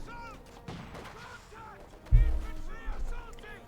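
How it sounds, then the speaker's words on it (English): Heavy mortar and artillery fire in Company of Heroes 2, a Soviet versus German multiplayer battle on the Crossfire map: a loud, deep explosive boom lands midway and rumbles on under ongoing speech, with scattered fainter gunfire earlier. "Heavy mortar at the position there"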